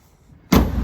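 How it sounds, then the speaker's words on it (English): The door of a 1963 Alfa Romeo Giulia Spyder opens after a near-silent moment with a sudden, close latch click followed by a hollow rumbling swing. "Let me open this door panel."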